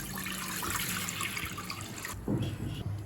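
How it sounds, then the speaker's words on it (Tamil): Three cups of water poured into a pot for dal khichdi make a continuous splashing trickle, then a brief heavier gush toward the end, heard close and alone. "இப்போ 3 கப் தண்ணி சேர்த்துக்கலாங்க."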